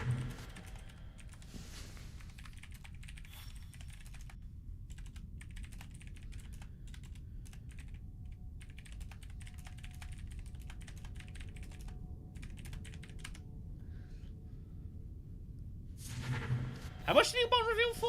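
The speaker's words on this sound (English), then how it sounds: "I was busy typing." Steady keyboard typing at close range runs through most of the stretch during a Dune Imperium digital board game session, a dense patter of small clicks that thickens toward the end as other sounds join in.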